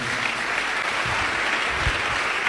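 A church congregation claps together in a dense, steady round of applause that holds evenly throughout, with no voices standing out.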